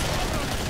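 Weapon alt fire in Killing Floor makes a loud, dense burst of gunfire. It sounds as a continuous harsh blast for under a second, with a voice talking over it.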